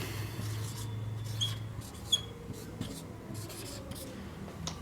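Chalk or marker writing on a classroom board, soft scratchy strokes in short bursts under a teacher's Hindi speech, faint and close with low room hum.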